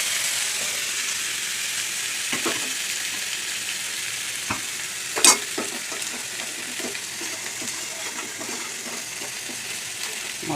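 Spices including coriander, cumin, chili, Kashmiri chili and turmeric fry in a pan with a steady close sizzle, punctuated by repeated scraping stirs and one sharp metallic clink.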